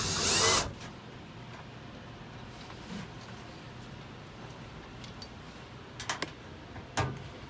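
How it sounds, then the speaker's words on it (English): A power drill drives longer replacement screws into stripped holes on an Airstream travel trailer furnace, with one loud burst of drilling at the start followed by quiet clicks and brief taps of screws and tools. "So we noticed that these screws are stripped, so Rob is putting in longer, better ones."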